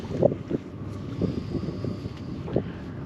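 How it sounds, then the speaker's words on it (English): Wind gusting over a small fishing boat out on the Solent, a steady low rumble of breeze against the microphone with a few soft thumps and knocks from the hull, no talking. "Wind's just slightly picked up a little bit more, still only a breeze."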